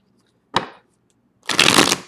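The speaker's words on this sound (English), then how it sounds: "Do one more shuffle" Tarot cards being shuffled in two bursts: a short riffle, a pause, then a longer, louder ruffling shuffle, close and crisp with no talking.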